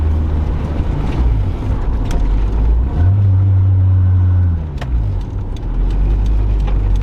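A BMW E30's engine hums steadily from inside the car, its pitch rising and falling as it drives, with road rumble underneath.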